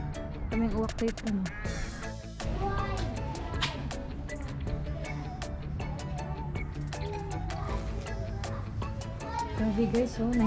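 Many crows cawing repeatedly in the city of Białystok, Poland, their harsh calls rising over a busy outdoor background while people chatter nearby.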